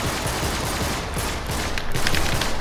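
Pistol fire in Uncharted 3, a fast string of sharp gunshots that blur into a dense, steady crackle of shooting. The burst is loud and close and gets a little stronger near the end.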